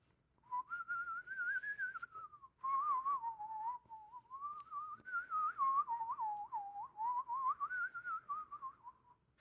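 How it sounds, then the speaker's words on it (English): A person whistles a slow, wavering melody alone, with short pauses between phrases, close and clear. "So if you want to whistle along, I'll lead you."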